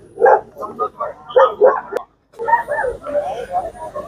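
Several dogs at a dog show in Ooty bark and yip in quick, overlapping bursts nearby, with a brief pause, then more barking mixed with people talking.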